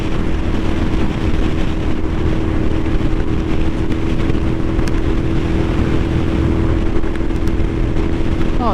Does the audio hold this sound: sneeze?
no